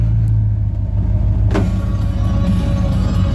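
Steady low engine rumble of a 1993 Dodge Ram 250 pickup idling close by, constant and even throughout.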